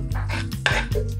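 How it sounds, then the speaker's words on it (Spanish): Chopped onion dropped into melted butter in a saucepan, with a few clinks and scrapes of a utensil against the pan, close and moderately loud, no talking. "vamos a agregar la cebolla"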